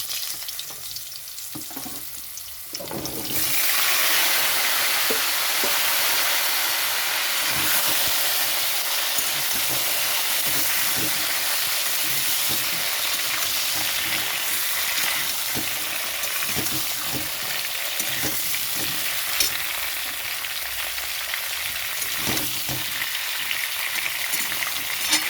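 Potatoes and papaya drop into hot oil with whole cumin and break into a loud, sustained sizzle that crackles steadily on with no voices.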